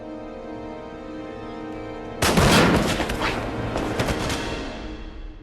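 Gunfire from the war film 1917: a sudden loud burst of shots and crackling fire cuts in partway through, replacing a quiet low hum and continuing as a sustained, echoing barrage.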